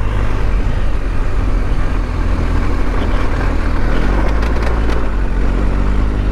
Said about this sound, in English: Traction control off, you can really spin up those tires and slide around a bit.